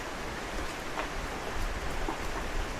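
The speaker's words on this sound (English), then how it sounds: "It's a rainy day today." Rain falls in a steady, soft hiss on a rainy day in the city, an even wash of noise with no talk over it.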